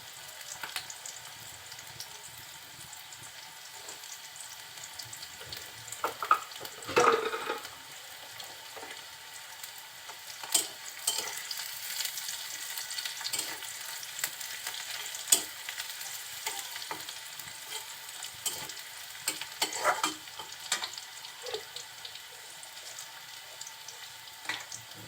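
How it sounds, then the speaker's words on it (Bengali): Malabar spinach and onions sizzle quietly in a pan, with a soft steady frying hiss and occasional scraping stirs and clinks of the spoon against the pan, close and low in volume. "সবগুলো একটু নেড়ে চেড়ে নিচ্ছি।"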